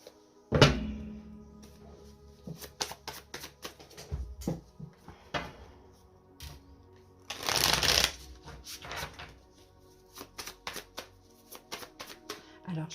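Light Seers tarot cards are shuffled by hand in repeated soft riffling bursts, with occasional thumps of the deck on a table and one louder, longer flurry partway through, close and fairly quiet.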